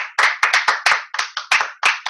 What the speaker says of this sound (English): So can we clap it up for them?